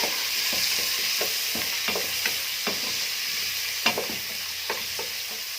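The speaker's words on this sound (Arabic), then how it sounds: "هنديهم تشويحه كده يطلعوا الريحه بتاعهم الجميله" Bay leaves, cardamom pods, mastic, black pepper and cinnamon sticks sautéing in hot oil for a trapa stew give a steady close sizzle, broken by scattered clicks and scrapes of stirring.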